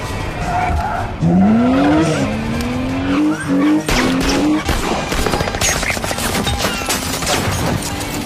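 A car tearing through a chase in the film Mr and Mrs Smith, engine roaring as tires squeal in long rising screeches over steady loud road noise, with rattling gunfire-like bursts in the background.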